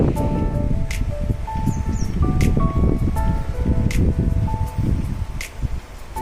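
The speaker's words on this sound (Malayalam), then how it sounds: "ഫുൾ ടൈം നല്ല കാറ്റ്, നല്ല ബ്രീസ്, നല്ല ഫ്രഷ് എയർ." Leaves rustle in a steady breeze at a valley resort in Agali, with soft crackling and occasional faint bird chirps in the background.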